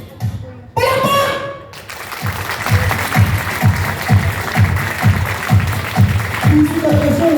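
Crowd applause at an 18th birthday celebration, steady rhythmic clapping that builds and continues for several seconds after a brief burst of speech, with an announcer's voice heard at the start.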